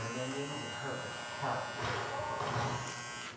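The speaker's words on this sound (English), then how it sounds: "Here's the trimmer. I'm gonna go ahead and turn it on for y'all." A Stylecraft Flex electric hair trimmer hums with a steady, high buzzing drone close by, with faint background noise and no talk.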